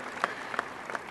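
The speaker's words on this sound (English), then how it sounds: "Give yourselves a round of applause for that." Applause from a high school graduation crowd, steady and moderately distant, with a few sharper individual claps standing out and no speech over it.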